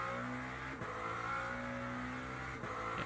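Race car engine from a Le Mans sprint championship in a racing video game, a steady droning engine note held at speed with brief shifts, moderately loud and alone.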